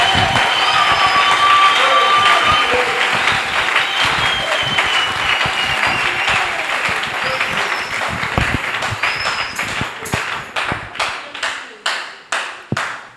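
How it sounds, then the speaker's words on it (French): Sustained congregational applause fills a church, dense and steady at first, then thinning into a few separate loud claps that fade out near the end, with some voices mixed in. "Est-ce qu'on peut applaudir encore?"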